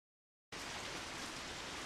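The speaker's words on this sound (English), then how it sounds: "fat drops of rain are starting to fall" Rain falling in the game Code Realize, a steady hiss of dense rainfall that begins abruptly after half a second of silence and holds evenly, soft but continuous.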